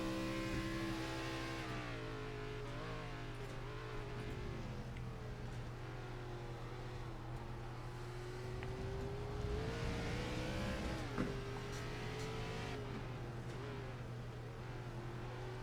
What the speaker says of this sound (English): You can hear the tires chattering, and you can see him fighting the steering wheel left and right.